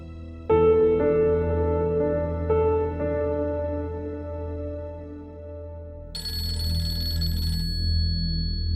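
A telephone ringtone plays in a Pakistani drama household as a mother rings her son, a steady repeating electronic tune, fairly loud and close, with no voices over it.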